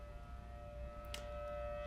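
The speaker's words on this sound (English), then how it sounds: "Air raid siren going off." Civil defense air raid siren sounding during a test at Disneyland, a steady droning wail heard at a distance over low background rumble, no talking.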